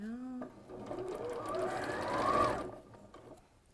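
A domestic sewing machine runs a short burst of stitching across a fabric seam, a whirring mechanical hum that builds and then stops, with a woman chatting at a relaxed home sewing session.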